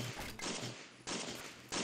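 Manually fired machine gun in the World War I game Battle of Empires 1914-1918, three short bursts of rapid shots separated by brief pauses, close and sharp with no talking.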